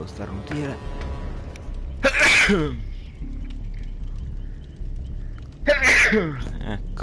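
Two sharp human sneezes, about three and a half seconds apart, burst out close and loud between stretches of someone talking in Italian while he sorts through things.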